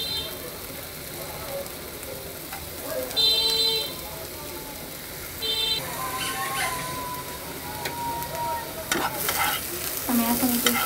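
Chopped onion and green chili stirred on a hot tawa, a steady sizzle with spatula scrapes and clinks, faint background voices and distant traffic sounds.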